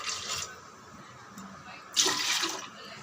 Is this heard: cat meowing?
no